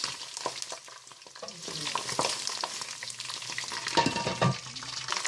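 Rendered pork fat bubbles and sizzles in a pan for kuyrdak, a continuous close frying hiss with occasional louder pops and stirring scrapes.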